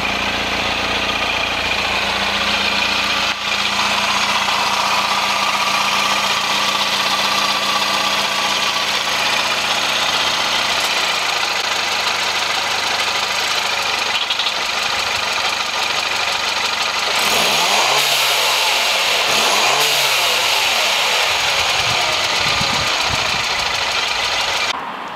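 A second-generation Mini's engine idles with a steady low rumble and hum, close by, then briefly revs and settles near the end. No one speaks.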